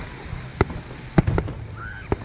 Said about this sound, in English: There's a whole lot of fireworks at Westminster.